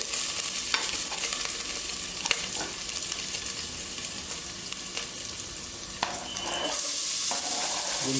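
Garlic frying in butter and oil in a pan, a continuous close sizzle with occasional sharp clicks of a spoon against the pan, and the hiss swells louder near the end.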